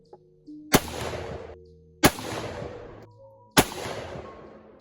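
Three loud, sharp Mosin-Nagant rifle shots firing Romanian silver tip ammunition at an outdoor range, spaced over a second apart, each with a sharp crack followed by a rolling echo that decays before the next.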